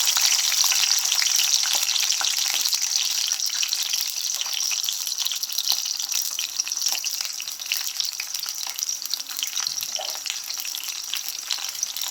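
Sliced shallots sauté in leftover coconut oil for chicken kondattam, a loud, steady sizzle and crackle of frying that carries on without a break, with faint stirring scrapes and no talking.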